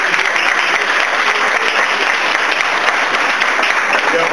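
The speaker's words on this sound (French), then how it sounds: "Et applaudissez toujours pour vos camarades qui vont obtenir tout de suite ces diplômes-là." Loud, dense applause from a crowd at a diploma ceremony, sustained clapping that stays steady throughout with no talk over it.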